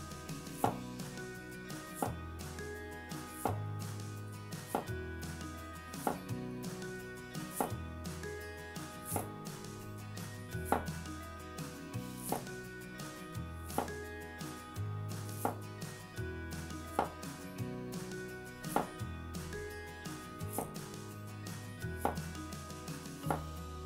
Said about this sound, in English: slice as thin as possible from the tip to the stem